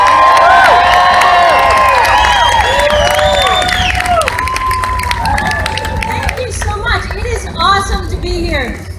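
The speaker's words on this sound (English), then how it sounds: "I want you to give her a nice, heartfelt round of applause." A large outdoor rally crowd in New York cheers and claps, with loud whoops and shouted voices on top; the roar stays strong at first, then thins to scattered cheers and calls.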